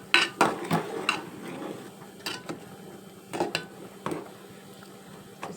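A plate stirs boiling water in a pan of mutton mulankada curry, giving irregular metallic clinks and scrapes against the pan over a low bubbling background.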